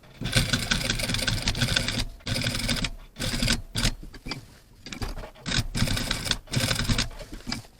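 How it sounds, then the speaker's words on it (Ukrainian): A sewing machine stitches a jeans waistband during a zipper replacement, loud rapid mechanical chatter in several bursts separated by short pauses, close up and with no speech. "Запаковуємо всередину під верхню частину пояса і прокладаємо строчку."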